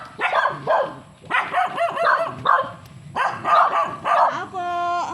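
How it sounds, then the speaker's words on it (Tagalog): Several dogs at a farm bark and yap loudly and repeatedly from close by, overlapping in bursts across the whole stretch, with a voice calling out among them. "Daming aso."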